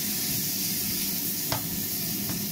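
Chorizo sizzling in a pan alongside mushrooms, a steady close hissing fry holding at an even level, with a couple of brief scraping taps as pieces are broken up; no voices.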